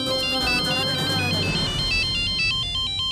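A bright electronic phone ringtone plays a repeating melodic pattern, loud and close, with some muffled voices underneath at the start.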